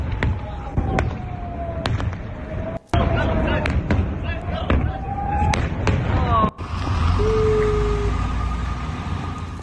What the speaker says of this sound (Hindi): जरा धमाका सुनिए।